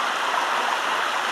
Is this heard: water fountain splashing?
yes